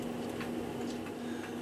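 A New Haven drop octagon clock ticks faintly and evenly in a quiet room, with a steady hum beneath the soft regular beats.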